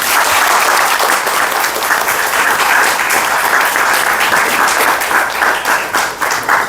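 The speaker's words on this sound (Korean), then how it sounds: "뜨거운 박수로 원혜영 의원님을 모시도록 하겠습니다" Warm audience applause welcoming a speaker at a lecture event, loud, dense and sustained clapping from a sizable crowd that holds steady throughout.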